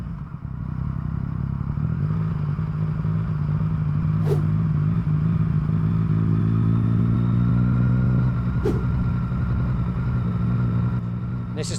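Motorcycle engine idling and rolling slowly through the Channel Tunnel terminal lanes, a steady close rumble that rises a little partway through, with two sharp clacks and a voice talking over it.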